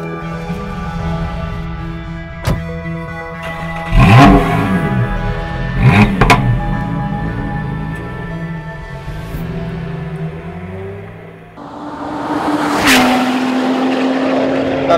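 Lotus Exige S sports car running on the Hethel test track, its engine droning loud and steady with rising and falling revs, sharp shifts and a brief surge of higher-pitched acceleration near the end.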